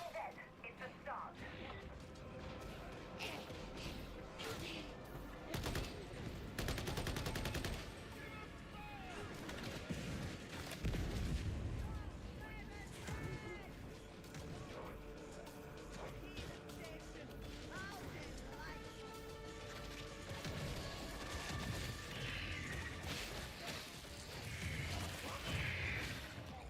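Rapid gunfire from a ranged weapon in the video game Darktide, with dense bursts of sharp shots over a busy mix of combat noise and in-game voices running throughout.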